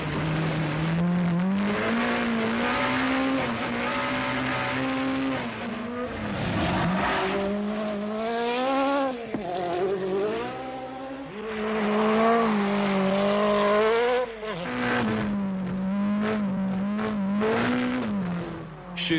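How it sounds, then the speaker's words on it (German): A 1987 Peugeot 205 Turbo 16 rally car climbs the Pikes Peak hill climb, its engine howling loudly through repeated rising and falling revs with gear changes, close and continuous, with no talk. "Vatanen effectue donc le meilleur temps, la 205 Turbo 16 distance l'Audi Quattro de 4 bonnes secondes."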